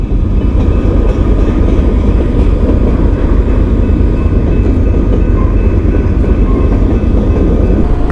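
Loud, close rumble of a train rolling on rails, with a steady heavy roar of wheels and track noise sustained throughout and no talking.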